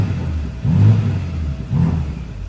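A BMW G80 M3 fitted with a MAD valve controller exhaust gives two short, deep revs at low RPM, each swelling briefly over a steady rumbling idle, close and without talk.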